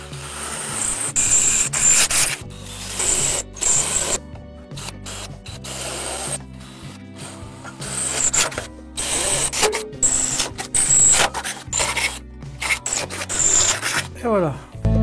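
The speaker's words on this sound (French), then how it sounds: "je vais faire mes quelques trous dans ma ferraille pour aller chercher mon bois. Donc je vais percer" Power drill boring 6 mm holes through scrap metal, stepped up from a 5 mm bit, during a workbench rebuild; irregular grinding, rubbing bursts separated by short pauses, close and fairly loud.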